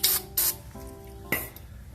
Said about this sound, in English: We're going to clean it with some brake cleaner, just to get all the little carbon swirlies so it don't stick.